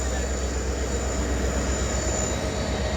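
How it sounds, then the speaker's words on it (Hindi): A passenger train on the Barmer–Rishikesh route hauled by a locomotive, a loud, steady, close rumble and rattle of wagons rolling past without a break, with no talk over it. "ये देखिए 1000 सेलिब्रेशन वाला लोकोमोटिव है"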